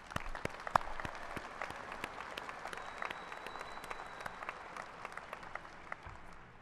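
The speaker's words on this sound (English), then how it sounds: "help me express deep appreciation for the contributions of our faculty and staff towards your success with a round of applause" Graduation audience at a spring commencement gives a round of applause, a quiet, spread-out wash of clapping with a few sharper individual claps standing out nearby.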